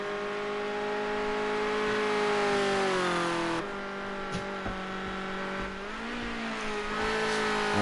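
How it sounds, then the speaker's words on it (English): Ford Escort RS 1600 race cars lapping Cadwell Park circuit in a league feature race, a loud, continuous engine drone with rising and falling revs as the cars accelerate and shift, sustained throughout. "this final feature race of the season for the Ford Escort RS 1600s"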